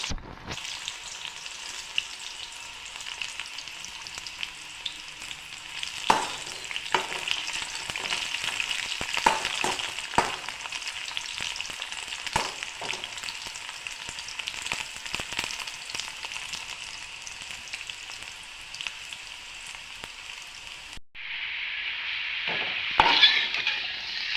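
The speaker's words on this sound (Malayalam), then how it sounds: "നല്ലപോലെ എണ്ണ തിളച്ച് വരട്ടെ" Jackfruit fries in hot oil with a steady, loud sizzle and crackle, broken by occasional clinks of a utensil; the sizzle flares sharply near the end.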